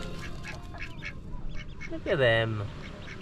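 Ducklings quacking in a short burst of rising, chirpy calls close by, emerging from a noisy outdoor background with a person speaking just before.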